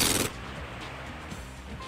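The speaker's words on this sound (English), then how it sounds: "Fade to black with one gunshot." A single sharp, loud gunshot in the video game Sonic Adventure bursts at the start, then drops away into a low, fading rumble.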